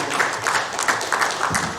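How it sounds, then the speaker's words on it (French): A crowd welcoming a university professor applauds with dense, steady clapping that holds at an even level for about two seconds. "Sous vos applaudissements"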